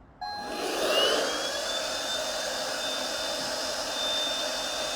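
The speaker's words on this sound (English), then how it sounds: "removing outside noise like vacuum cleaners" A vacuum cleaner switches on near a Nintendo Switch 2 microphone test, its motor whining up to a loud, steady roar that runs on close by without pause.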